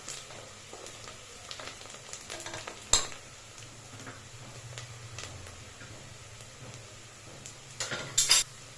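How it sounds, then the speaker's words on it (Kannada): Onions and green chillies frying in a pan give off a soft continuous sizzle, with occasional sharp clinks and scrapes of a utensil stirring them and a louder clatter near the end. "ಐದು ಹಸಿಮೆಣಸಿನ್ಕಾಯಿ ಹಾಕೋತಾ ಇದ್ದೀನಿ ಹಾಕ್ಕೊಂಡು ಒಂದೆರಡು ನಿಮಿಷ ಚೆನ್ನಾಗಿ ಫ್ರೈ ಮಾಡಿ"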